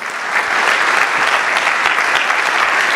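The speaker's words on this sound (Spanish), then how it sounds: "denle un aplauso, no se quede con las ganas, es para el Señor" A congregation in church breaks into loud, sustained applause, close and dense clapping from many people that rises quickly and holds steady with no talking.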